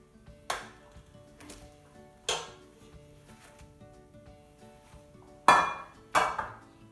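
A homemade cornbread pan is flipped onto a cooling rack, giving four separate sharp metallic bangs with ringing decay. The first two are spaced apart and the last two come close together and louder, nearby, with no talk.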